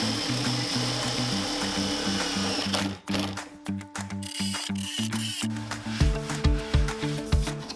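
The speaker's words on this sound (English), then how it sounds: "I'm going to secure them with the self-tapping screws." Power driver sinking self-tapping square-drive screws into metal roof rack brackets, a loud close whirring motor broken by stops, then several short rising bursts as screws bite and seat.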